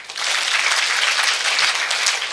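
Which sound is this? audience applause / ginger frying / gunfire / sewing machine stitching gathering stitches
audience applause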